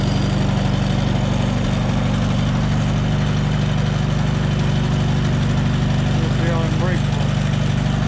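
A 1958 Allis Chalmers D14 tractor engine running, a loud steady low rumbling idle up close throughout, with a voice speaking faintly under it.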